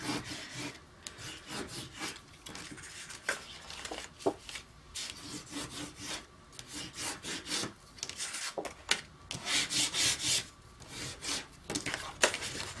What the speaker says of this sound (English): your score tape on all of those, you should burnish it all down